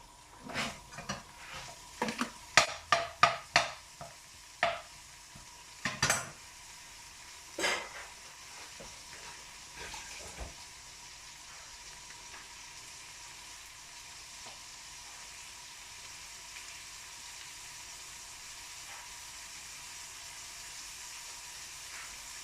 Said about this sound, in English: We're going to go in with the chopped onions.